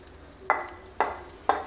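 Grated coconut sizzling in hot ghee, heard as three sharp sizzling bursts evenly spaced about half a second apart, each flaring up and then fading, close and clear with no voices.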